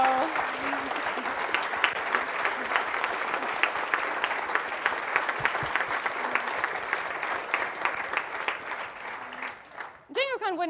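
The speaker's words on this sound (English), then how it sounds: "can you please stand up and let us give you a round of applause?" Sustained audience applause at the closing of the DjangoCon US 2017 conference, honoring the event's volunteers: a dense, steady wash of clapping hands in a large room that fades out near the end.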